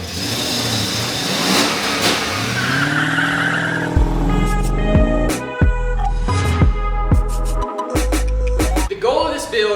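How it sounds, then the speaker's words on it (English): A German-built Mercedes with a big, monstrous V8 drives off, its engine roaring through revs while tires squeal and skid, loud and close, with sharp bursts and gear-change breaks toward the end. "It has a big, monstrous V8, and it just sounds like America"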